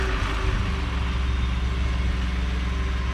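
A Ford F150 pickup's engine idling, a steady low rumble with an even pulsing throb that holds constant throughout, close by and alone without talk.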